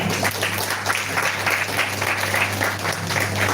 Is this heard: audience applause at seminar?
yes